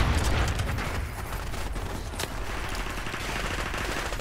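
Gunfire from the video game Call of Duty 4 Remastered rattles in dense, continuous automatic bursts with heavy booming low end, loud and close, with only a faint hint of voices.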